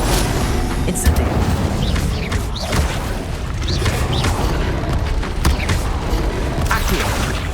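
An Incendio fire spell is cast in Hogwarts Legacy, a loud rumbling whoosh and boom over continuous dense game noise, with a voice speaking briefly.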